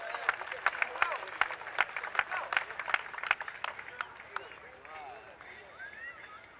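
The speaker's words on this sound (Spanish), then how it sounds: "Démosle un fuerte y cariñoso aplauso." Parade spectators applaud during a 1982 September 16 Mexican Independence Day parade in San Jose, sharp scattered claps from a nearby crowd that gradually thin and fade, with voices mixed underneath.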